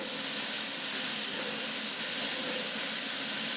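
Nickel Plate Road 765, a steam locomotive back in steam after a four-year rebuild, gives off a loud, steady, continuous hiss of venting steam close by, with no talking.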